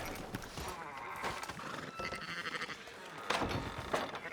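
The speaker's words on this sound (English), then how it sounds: "Fine sheep." Sheep in the Red Dead Redemption 2 video game bleat a few times among the shuffling, hoof-like noise of farm animals, faint and close, with some indistinct movement between calls.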